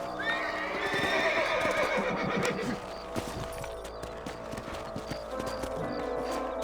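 Rhythmic clip-clop of galloping horse hooves in the video game Red Dead Redemption, with a horse whinnying early on, set against a steady busy background of game sound.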